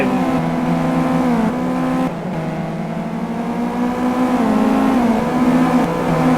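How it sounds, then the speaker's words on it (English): A dense pack of race cars in the Simraceway racing game roars toward a hairpin, several engines droning loudly together with layered, shifting pitches that dip briefly as they back off, then rise again. "a massive pack of cars head down in towards the hairpin"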